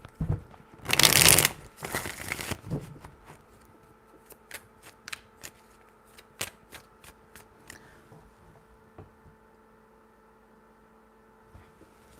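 Tarot deck shuffled by hand, a dense riffling burst then a shorter second one, followed by scattered light card taps and slaps over a faint steady electrical hum, close and quiet with no talking.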